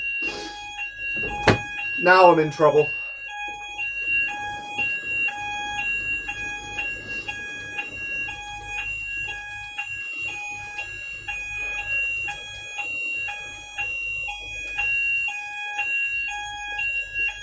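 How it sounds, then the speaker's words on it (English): A building fire alarm goes off, beeping in a steady, repeating rhythm for a long stretch, with someone speaking briefly over it at the beginning. "I've set off the building's fire alarm."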